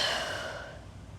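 A single soft exhaled breath during a yoga twist, close and faint, fading over about a second.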